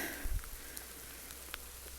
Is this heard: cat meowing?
no